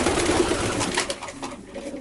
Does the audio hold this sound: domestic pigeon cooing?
yes